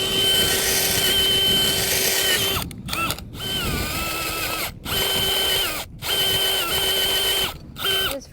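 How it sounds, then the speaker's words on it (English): A power drill bores holes in garden soil for planting Tête-à-Tête daffodil bulbs, whirring loudly in several long bursts separated by short pauses. "what I usually do is go ahead and just drill all the holes and then plant."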